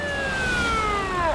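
An ambulance siren sounds loud and close as a single long falling wail that drops sharply in pitch at the end, with no speech over it.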